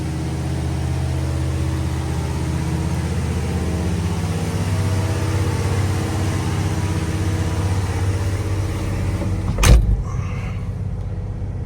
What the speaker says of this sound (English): Let's drive the Grand Wagoneer.